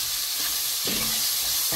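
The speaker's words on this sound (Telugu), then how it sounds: "కొద్దిగా ఈ జింజర్ గార్లిక్ పేస్ట్ వేగాలి" Ginger garlic paste sizzles in a pan with onions while veg pulao is cooked, a steady, close frying hiss that holds throughout, with a brief stirring scrape in the middle.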